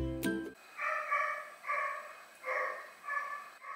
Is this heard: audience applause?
no